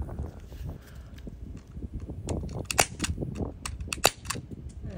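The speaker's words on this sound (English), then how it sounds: "Can prescription glasses hold up against an airsoft gun?" An SSX 23 airsoft gun fires at prescription eyeglass lenses, giving a run of faint, quick snapping pops and small cracking impacts at an irregular pace over low background noise.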